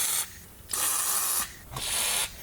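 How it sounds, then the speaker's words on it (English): WD-40 sprayed onto a shock absorber while replacing struts on a 2008 Chevy Tahoe, three close, loud aerosol hiss bursts separated by short pauses. "Gonna spray everything with WD-40."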